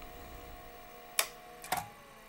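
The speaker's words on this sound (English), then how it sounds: "that's the sound of a 30 megabyte MFM hard drive from 35 years old shutting down" A 35-year-old 30 megabyte MFM hard drive in an IBM 5170 shutting down: faint mechanical hum with two sharp clicks close together, quiet and without voices.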